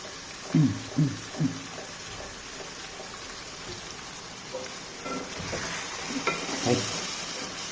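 Ground coriander paste hits hot oil in a pot of chicken pulao, sizzling and hissing as it is stirred, with a few scraping strokes and a brief voice at the start.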